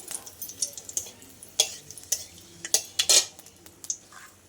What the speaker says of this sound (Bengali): কড়াই গরম হয়ে গেছে আমি দুটো শুকনো লঙ্কা দিয়ে দিচ্ছি ফোড়নে